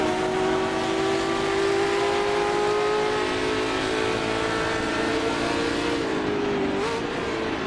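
A racing sports car engine roars continuously at close range on the Silverstone circuit in a British Sports Car Championship race alongside a Ford GT40 and McLaren Elva. The loud, steady note holds high revs, dips briefly and then rises again, with no talk.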